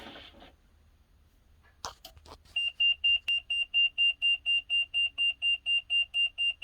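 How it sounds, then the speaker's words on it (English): A Winnebago on a Workhorse chassis with an 8.1 Vortec engine sounds a steady run of loud, evenly spaced electronic warning beeps once the ignition key is turned on in a no-crank condition, preceded by a few soft clicks. "Well, it beeps a lot, doesn't it?"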